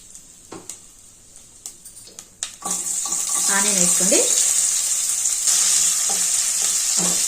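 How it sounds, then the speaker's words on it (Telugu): Cumin and mustard seeds hit hot oil for tempering, setting off a sudden, loud, continuous crackling sizzle that follows a few quiet clicks at the start. "మనకు నేను పోపు వేసుకుందాం"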